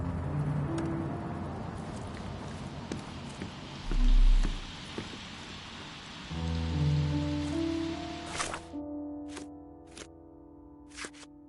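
Rain falls steadily in the Sherlock Holmes Chapter One video game, a soft constant patter with occasional louder drops and low background tones, fading out near the end into a few sharp isolated taps.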